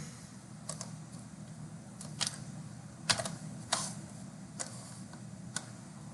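A handful of sparse, crisp keystrokes on a computer keyboard, spaced irregularly over a low steady hum, with no talking.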